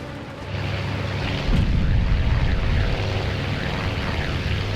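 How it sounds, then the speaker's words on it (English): Anti-aircraft shells burst nearby in the naval battle game Task Force Admiral, a loud, bassy rumbling boom that swells after a brief quieter start and rolls on continuously, with no voices. "Got all that bassy boom of the anti-aircraft shells exploding nearby."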